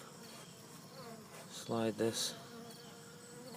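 Honey bees on a hive comb give off a dense, continuous close-up hum, with a person briefly speaking over the swarm.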